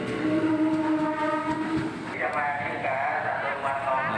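A commuter train rumbles and squeals along the rails close by at Bekasi station, with a steady mechanical hum and metallic tones under faint background voices.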